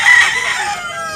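A black, black-legged gamecock crows loudly and close by at a rooster market in Tabunok, Talisay, Cebu. It is a single strained call that is caught already in progress and trails off.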